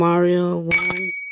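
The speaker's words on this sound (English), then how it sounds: "My phone keeps on going off." A sustained tone fades out, then a bright electronic phone notification chime pings twice and lingers, sharp and close.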